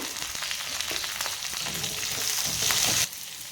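Green chillies, onions, cumin and curry leaves sizzle in hot oil in a pan for pea upma, a close, crackling fry that swells louder briefly before settling back.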